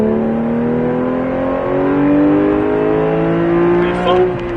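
A Porsche 991 GT3 on light throttle at Circuit de Bresse gives a loud, close, steady engine note whose harmonics climb smoothly as it pulls, with a brief cut near the end.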